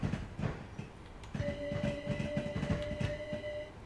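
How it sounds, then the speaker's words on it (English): A Gatwick Express train passes in the Train Sim World 6 game: a steady rumbling rail roll with clicking wheel beats and a sustained tonal whine rising partway through, moderately close. "There's a Gatwick Express there."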